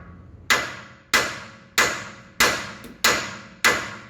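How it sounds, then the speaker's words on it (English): Hammer blows ring out against a truck's steel steering knuckle to pop loose a ball joint, six sharp, loud metallic strikes at a steady pace about every 0.6 seconds, each with a short ringing decay and no talking. "you're gonna smack this knuckle"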